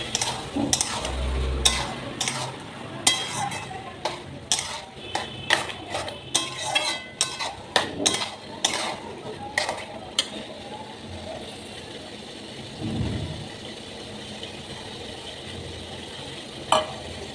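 A sauce mixture of soy, chilli and tomato sauce, pepper, salt and water goes into frying onion and capsicum for bhetki chilli fish, followed by rapid, repeated clattering stirs and scrapes over a soft sizzle, then calmer frying.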